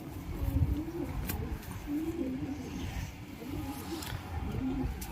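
Pigeons cooing in a loft, a steady series of low, throaty rolling calls repeating close by under a dense background hum.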